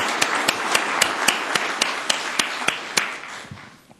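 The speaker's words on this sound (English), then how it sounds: "Let's give them another round of applause." Audience applause at a Columbus, Georgia city council meeting, a steady wash of many hands clapping with distinct sharper claps standing out, fading toward the end.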